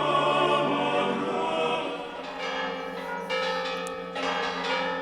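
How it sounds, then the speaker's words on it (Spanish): Church bells of Zamora Cathedral ring out for Easter Sunday, with loud, sustained overlapping peals whose tolling swells and renews several times, heard alone with no talk. "Y las campanas de la Catedral Zamorana ahí las tienen, celebrando que Jesús ha resucitado."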